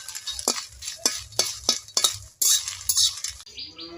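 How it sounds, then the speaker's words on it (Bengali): Dry red chillies roasting in a dry wok without oil, stirred with a metal utensil: a series of sharp scrapes and clinks against the pan over a faint crackle, ending in a brief hiss. "আর আপনারা তেল দিয়ে ভাজবেন না, এই শুকনো কড়াইতেই ভাজতে হবে।"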